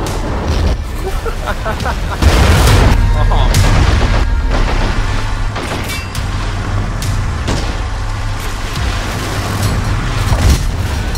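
A Goliath is blown up in the strategy war game Men of War: Assault Squad 2, with loud booms and artillery-like blasts going off repeatedly over a rumbling battle, while a player's voice chatters in the background.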